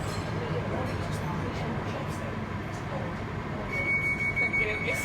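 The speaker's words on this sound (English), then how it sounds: "This is a Northern Line train via Bank," A London Underground Northern Line train runs through the tunnel with a continuous low rumble and rattle, a brief high wheel squeal near the end, and an announcement voice heard over the noise.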